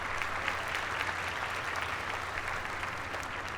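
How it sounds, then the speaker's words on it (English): Steady, sustained applause from an audience at a dual enrollment recognition ceremony, a dense even wash of many hands clapping at constant loudness throughout. "Round of applause."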